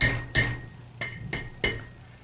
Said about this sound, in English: we'll take our hammer and we'll hammer that down in between those ears